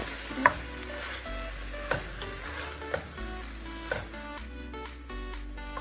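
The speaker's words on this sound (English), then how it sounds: "you're gonna keep on mixing it in until the tomatoes are ready" Tomatoes being stirred in a pot while cooking down for vegetable soup, soft scraping and sizzling with a few light knocks of the spoon against the pot at intervals, fairly quiet and close with no talking.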